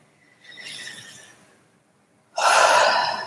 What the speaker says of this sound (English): Big deep breath, tapping the middle finger and breathing.